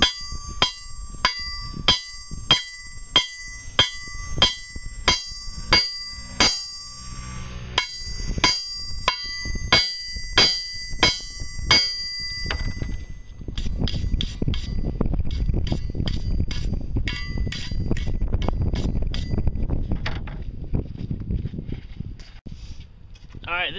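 Hammer blows ring out on hot steel flattened for a forged flag pole bracket: a steady series of sharp, loud metallic strikes up close, then a pause, more strikes, and a stretch of dense, rumbling noise.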